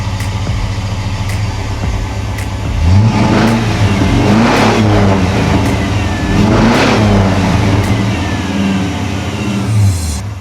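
Car engine revving and accelerating as the car pulls into a warm, dry garage, a loud steady rumble with two rising surges, no talking.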